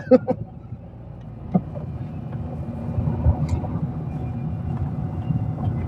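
Ford Fusion with a 68-horsepower engine driving over an uneven road, a low rumbling cabin drone with a few sharp knocks and thumps from the bumps, heard from inside the car.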